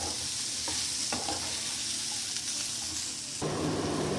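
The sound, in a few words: sautéing ingredients in pan for matar paneer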